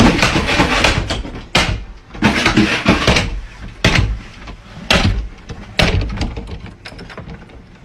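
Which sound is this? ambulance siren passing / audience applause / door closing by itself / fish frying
door closing by itself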